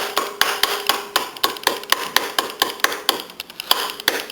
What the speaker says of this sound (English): he's using this ball peen to just trace the outside